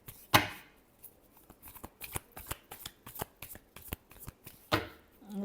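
Tarot cards being shuffled by hand during a love reading, a close series of crisp riffling flutters and soft taps in an irregular rhythm, with a couple of louder snaps.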